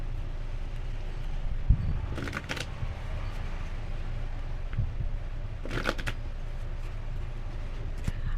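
Oracle cards shuffled by hand during a tarot reading, two quick bursts of riffling flutter standing clearly above a steady low background rumble, with soft handling taps between them.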